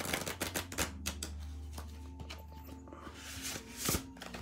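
Rapid papery flicks and taps of a large, oversized deck of oracle cards being shuffled, irregular bursts close up, with a low hum underneath.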